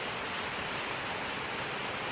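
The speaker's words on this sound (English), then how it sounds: "Oh yeah, there's a waterfall there." A waterfall on a forest trail in Makiki Valley, Hawaii, gives a steady, dense broadband rush of falling water that runs unbroken and fairly loud the whole time, with no voices over it.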